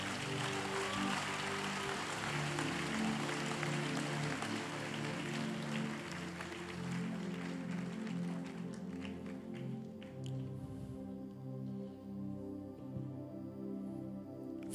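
A church congregation claps together during a Sunday service, a dense and steady wash of many hands that carries on for a long stretch, then thins to a few scattered claps and quiet hall ambience.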